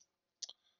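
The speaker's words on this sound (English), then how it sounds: "Terrible typing already." Keyboard typing while coding: a brief, faint cluster of two or three soft key clicks in near silence.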